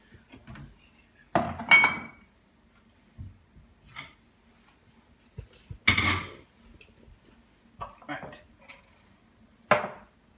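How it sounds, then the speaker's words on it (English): Dishes, pots and pans clatter in a home kitchen while chilli chicken cooks, with several sharp clinks and bangs spaced a few seconds apart and quieter handling sounds between. "Sort out more dishes."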